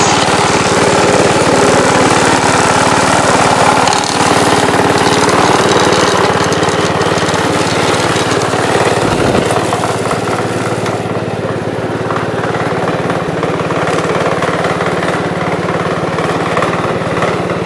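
A Gravely commercial walk-behind mower engine runs steadily and loud throughout at a constant idle-like drone, with a brief dip near the middle and no talking.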